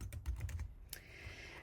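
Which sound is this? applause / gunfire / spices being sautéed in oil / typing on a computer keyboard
typing on a computer keyboard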